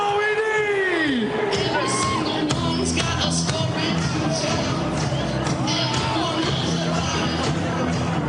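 Patriots fans at Gillette Stadium send-off rally cheer, whoop and shout in a dense, loud, steady crowd roar, with a PA voice and whistles cutting through near the start.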